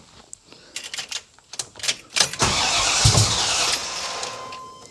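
A 1978 Corvette with an L-82 V8 and side pipes cranks in several short, sputtering bursts, then catches and settles into a loud, steady idle right up close.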